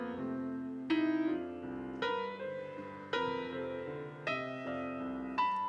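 Piano passage mimicking a cat walking across the keyboard, with irregular clusters of struck notes landing about once a second and ringing on between them, played alone with no talk.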